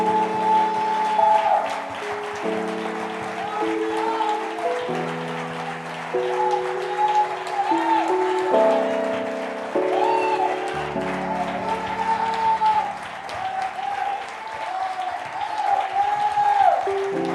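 A church congregation applauds during a celebration service, steady clapping from many hands over sustained keyboard chords that shift in slow steps throughout.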